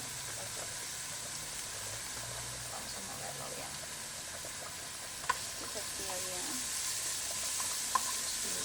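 Noodle sauce ingredients with cumin sizzle steadily in a pan, a constant close frying hiss with a few faint clinks from stirring.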